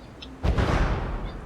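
A tank gun hit in a tank battle video game lands as a single sudden heavy boom, followed by a rumbling decay that lingers for about a second.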